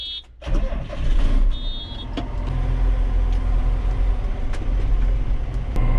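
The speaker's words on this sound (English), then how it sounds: "Just gonna drive this about 2 miles down the road." A farm vehicle used for hauling liquid manure drives down a road, its engine and road noise loud and steady after a brief quiet start, with a short high whine early on and no voices.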